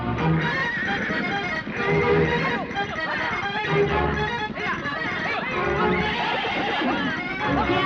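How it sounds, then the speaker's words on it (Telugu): A wild horse neighs and whinnies loudly in a film scene, with hoofbeats clattering beneath and people shouting and talking throughout. "ఈ అడవి గుర్రం, దాన్ని పట్టడం వీళ్ళ తరమా?"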